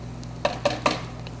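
Butter and flour roux being stirred in a pan, a utensil scraping and clinking against the metal in three or four distinct strokes over a steady low kitchen hum, close and moderately loud.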